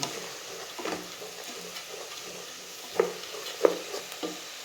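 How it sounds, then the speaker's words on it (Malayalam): Browntop millet upma roasting in ghee over a low flame, a quiet sizzle with occasional scraping strokes of the spoon against the pan, close and gentle, without talking. "നമ്മൾ നെയ്യിൽ വരട്ടുകയാണ്."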